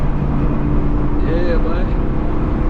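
BMW F82 M4 with a front mount intercooler under way, a loud steady low engine drone with a brief rising whistle-like tone in the middle, heard from inside the car while someone talks over it.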